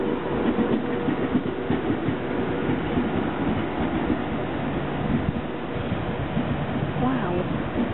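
A Class 350 train, unit 350 011, running from Manchester Piccadilly to London Euston rumbles close and steady with rhythmic wheel clatter on the rails, while voices talk over it.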